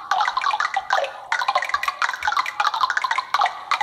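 Bouncy water droplets in the Enigmo puzzle game make rapid, bright plinking and dripping sounds in quick irregular bursts, closely spaced and fairly loud.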